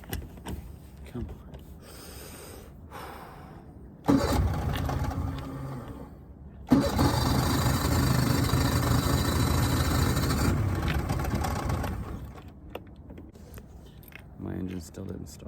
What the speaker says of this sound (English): Now here comes the fun part of starting up my really old boat.